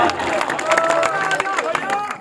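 At an outdoor volleyball match, a crowd claps in quick, scattered bursts with some cheering, loud and close, mixed with shouting voices and an announcer speaking over the noise.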